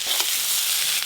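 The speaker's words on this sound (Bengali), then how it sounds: "পাঁচমিশালি সবজি ভালো করে ভাজা হয়ে গেল" Mixed winter vegetables fry in a pan with a dense, even sizzle close by, marked by a couple of faint stirring clicks.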